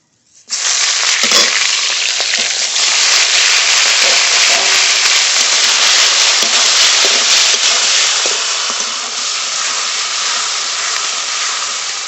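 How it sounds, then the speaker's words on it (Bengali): Tengra fish dropped into hot oil bursts into a loud, sudden sizzle that holds as a strong, steady hiss with faint crackles for the rest of the stretch. "এবার এই ট্যাংরা মাছগুলো ভেজে নেব"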